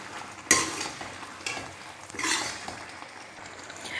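A spoon stirs tomato paste into beef liver masala in a hot pan, giving a few scraping sweeps and clinks over a soft, steady sizzle, close by and without talk.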